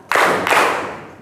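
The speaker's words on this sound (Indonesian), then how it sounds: "kalau 2 berarti 2 kali" A group claps in unison twice, two sharp, loud synchronized bursts about a third of a second apart, each ringing briefly before decaying, with no talk over them.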